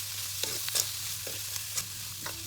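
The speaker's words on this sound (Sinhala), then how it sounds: "දැන් මේ විදිහට හොඳින් හැඳ ගාවින් ටෙම්පරාදු කරගන්න." Sausages being stir-fried and tempered in a pan, Sri Lankan style, with a steady close sizzle broken by scraping spoon strokes at a loose, uneven rhythm.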